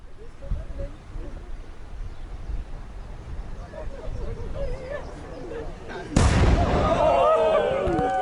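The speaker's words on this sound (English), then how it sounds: "this must be the only race that starts with an actual real live cannon going off" A real cannon fires to start a marathon race, a single loud boom cutting in abruptly after several seconds of outdoor chatter, followed by sustained cheering and crowd noise.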